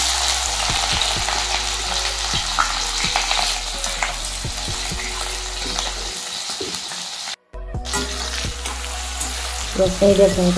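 Onions sizzle and fry in hot refined oil in a kadai with steady, loud crackling, broken by stirring scrapes and a brief silent gap before the sizzle resumes.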